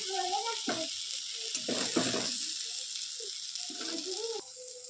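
Brinjal frying in oil in a wok, a steady broadband sizzle running throughout, with brief stirring scrapes and a voice speaking over it at moments.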